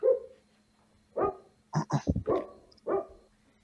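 A dog barks several times nearby in irregular bursts, some sharp and quick in succession, with short gaps of quiet between.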